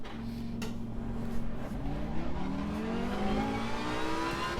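Lamborghini GT3 race car at Kyalami in Assetto Corsa Competizione, a close loud engine whose whine rises through the revs, with faint bumps and tire noise underneath.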